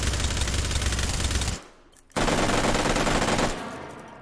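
Rapid automatic fire from a FAMAS carbine in the VR shooting game H3VR, a loud dense burst for about a second and a half, a brief pause, then another sustained volley that tails off.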